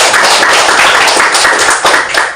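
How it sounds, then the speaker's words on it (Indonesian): A room full of people claps hands, loud and close, in a dense burst of applause lasting a couple of seconds with no talk over it. "Luar biasa, tepuk tangan."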